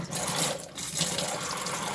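Water gushes steadily from a tap into a washbasin in a caravan bathroom, a close, continuous hiss with a brief dip in the middle.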